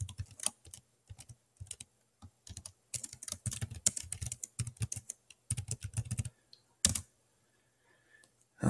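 Fingers type on an Asus Flip Chromebook keyboard in quick irregular bursts of close, crisp key clicks, separated by short pauses, with no talking.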